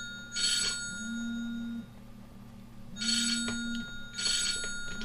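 A telephone rings inside the Fortnite video game, three loud bright trilling bursts spaced a second or so apart, each with a rising electronic tone, over quiet game ambience without speech.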